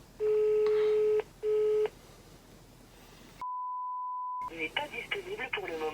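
A telephone call ringing out: two long beeps of ringback tone, then a steady single tone after a silent gap, followed by a burst of garbled tones before a voice answers.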